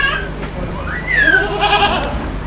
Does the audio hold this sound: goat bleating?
yes